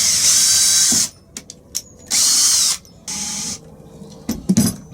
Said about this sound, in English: So I'm drilling the holes and I'll put the screws in later.